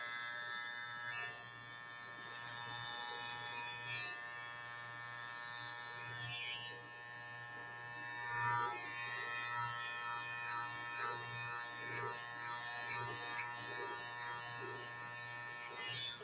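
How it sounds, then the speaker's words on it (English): An electric hair clipper buzzes steadily through a tapered men's clipper-over-comb haircut, its hum continuous and close with small shifts in pitch as it moves around the ear. "Now we're going to go back with the clipper over comb."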